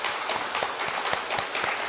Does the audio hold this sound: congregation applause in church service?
yes